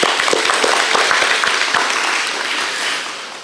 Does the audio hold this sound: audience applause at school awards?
yes